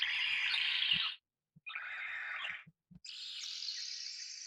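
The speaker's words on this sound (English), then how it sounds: "Birds are pretty." Synthesized bird chirps from a retro-style VST synthesizer in three bright, sustained bursts separated by short gaps, with a few low thumps between them.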